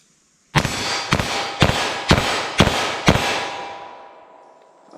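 Six loud, evenly spaced gunshots from a .357 Magnum fired at a range target, each sharp crack trailing into reverberation and a long fading decay after the last shot.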